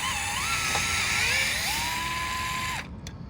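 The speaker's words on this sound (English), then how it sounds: "power tool here to speed up the process" A small power driver whines steadily while driving screws into a node board on a Stern pinball machine, with pitch shifts as load changes before stopping abruptly.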